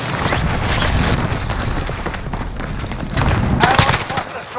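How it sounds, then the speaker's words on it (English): Gunfire in Call of Duty Warzone on Rebirth Island with an MP40, dense rapid bursts and booms crackling continuously at close range, building louder near the end, with in-game radio voice callouts over it. "Taking fire."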